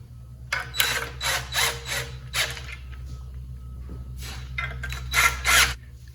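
A torque wrench ratchets in several quick bursts of clicking as a bolt is tightened while installing the engine in a 1974 Triumph TR6, close and crisp over a low steady hum, with a pause mid-way and no talking.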